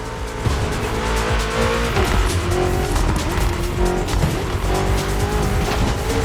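BMW M CS cars race in The Crew Motorfest video game, with a loud continuous engine roar mixed with tire squeal and skidding throughout.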